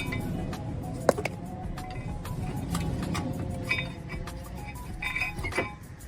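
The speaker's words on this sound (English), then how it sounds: "I'm going to remove the brake pads." Brake pads come out of a Nissan Qashqai front brake caliper, with light metallic clinks and taps over a soft workshop background, close up and without talk.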